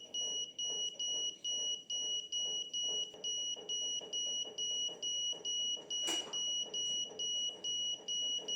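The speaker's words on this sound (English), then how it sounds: "the system detects the object, in this case a person, and immediately the buzzer turns on" A buzzer alarm, triggered when an object detection system detects a person, beeps in a steady, rapid on-off pattern, about two pulses per second, sounding continuously with no one speaking.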